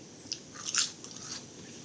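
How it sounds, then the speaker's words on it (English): Potato crisps are bitten into, giving one quick, faint crunch that swells briefly and then fades, with no talk. "Potato crisps."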